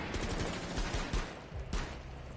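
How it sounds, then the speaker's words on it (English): A stun grenade and gunfire in Rainbow Six Siege: loud, dense bursts of shots and sharp bangs packed together across the whole moment, with a few heavier hits standing out. "We just throw that stun grenade real quick."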